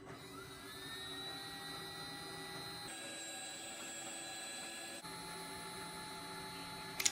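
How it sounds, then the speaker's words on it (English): A heat gun blows steadily close by while warming the thermal probe of a 12V lithium RV battery, giving an even fan whine and airy hum that shift pitch slightly partway through. "So I'm going to use a heat gun and warm up the thermal probe."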